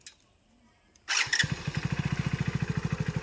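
After a moment of near silence, a motorcycle engine cranks and fires up, settling into a steady, rapid chugging idle close by.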